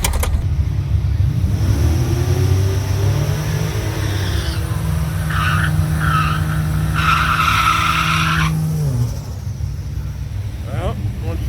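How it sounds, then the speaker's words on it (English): Sleeper ute revving hard through a burnout, a loud sustained engine roar with screeching tyre squeal for about nine seconds before the engine drops away, close by. "Atrocious burnout."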